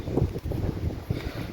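Gusty wind buffeting the microphone outdoors in a Yorkshire town, a low rumbling roar with uneven surges and brief dips throughout, no clear voices.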